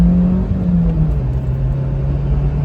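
Daihatsu Terios small SUV accelerating at full throttle in second gear, a loud steady engine drone rising in pitch as it pulls, with no talking over it.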